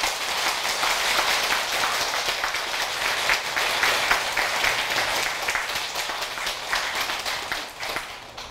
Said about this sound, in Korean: 박수로 우리 다짐합시다.